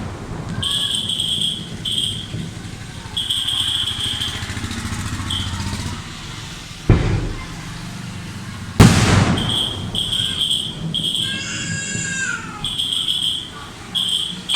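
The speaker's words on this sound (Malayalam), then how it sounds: "മഴ ഒന്ന് കുറഞ്ഞപ്പോൾ വെടിക്കെട്ട് ചെറിയ രീതിയിലൊരു കുഞ്ഞു വെടിക്കെട്ടും" Small fireworks display at a church feast after rain, with a couple of sharp loud bangs standing out over a steady crowd and traffic din, repeated high-pitched beeping tones, and voices in the background.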